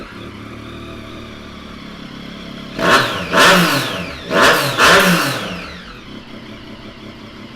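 A 2016 Yamaha MT-09 motorcycle with a custom exhaust and custom map idles, then revs hard twice in quick double blips that fall back to a steady idle. The sound is loud and close, with no talking.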